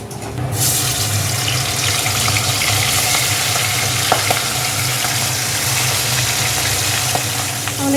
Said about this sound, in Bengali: আর কটা মাছ আছে সেগুলো ভেজে নেবে তাই তো হ্যাঁ।